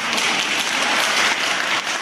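An audience at a celebration in Kherson for couples marking golden and diamond wedding anniversaries breaks into applause, a dense, steady roar of clapping from many hands that carries through the whole moment.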